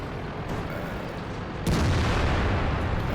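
Tank gunfire in World of Tanks: a dull roar of distant battle, then a sudden loud boom about halfway through that lifts into a sustained heavy rumble.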